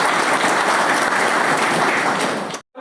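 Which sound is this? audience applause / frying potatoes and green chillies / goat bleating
audience applause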